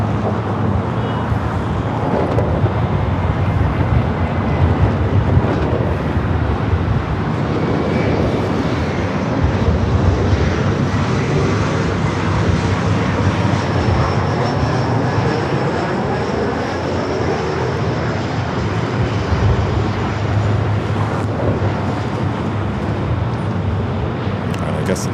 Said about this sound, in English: Southwest flight heading to Albuquerque, lined up, ready to go, 24 left